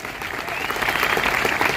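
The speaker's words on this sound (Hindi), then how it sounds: "तालियां थोड़ी जोरदार वाली चाहिए सर।" Enthusiastic audience applause fills a hall at a business stage event, dense and steady clapping from a large crowd, loud and sustained throughout without a break.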